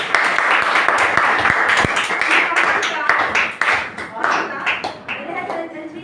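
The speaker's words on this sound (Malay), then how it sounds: "Berikan tepukan untuk Aris." Applause from a classroom audience for a student's presentation in a lesson on the Prophet's Hijrah, a dense, lively burst of clapping that stays loud and then thins out over a few seconds.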